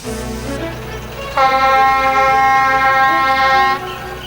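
A diesel locomotive horn in the Trainz 2019 video game blares loud, sustained and multi-tone for about two and a half seconds over a low rumbling engine, then cuts off.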